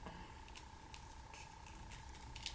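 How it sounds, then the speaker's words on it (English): Scissors snipping through craft material while cutting out a Valentine heart ornament shape, a few quiet crisp snips spaced out over a steady low hum. "So I'm going to go ahead and continue to cut this out"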